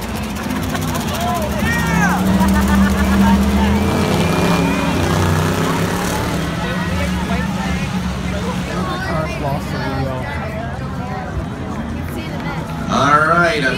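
Engines of race cars roar steadily on a dirt oval track near the end of a race, a loud continuous drone with a crowd murmur beneath, while an announcer talks over it throughout.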